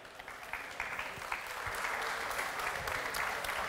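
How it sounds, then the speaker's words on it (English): An audience at a Saab talk on the Gripen fighter claps for a speaker, scattered hand claps quickly swelling into steady, moderately distant applause. "Please give a warm applause to Marcus Wandt."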